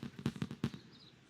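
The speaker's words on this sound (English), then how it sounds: "if you don't like fireworks, I can also change it to like night light, the night sky without the fireworks" Fireworks in Age of Empires III at the United States celebration, a quick run of five or six soft popping bursts followed by a fading crackle, moderately distant.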